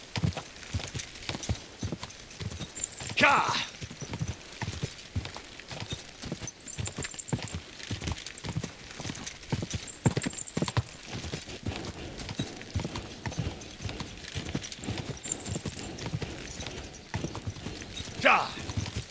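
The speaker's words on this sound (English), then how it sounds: "Easy, good horse." Horse hooves clip-clop at a gallop in Kingdom Come Deliverance 2, a steady rapid drumming of the gait throughout, with a couple of brief whinnies and a short spoken shout over the top.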